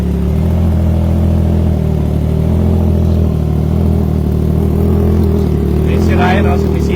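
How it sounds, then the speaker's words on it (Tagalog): Triumph Trident 660 motorcycle with an aftermarket exhaust idling and revving lightly, a loud, steady deep bass rumble up close, with a voice talking faintly over it. "deep bass rumble from or the deep bass sound from the bike"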